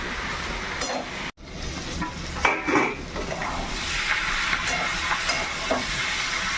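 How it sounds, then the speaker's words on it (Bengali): Pumpkin frying in fish oil sizzles in a continuous, loud hiss close by, broken by a brief hard knock and a few clattering utensil scrapes, no voices. "দিয়ে ভেজে দিচ্ছি এই কুমড়োটা।"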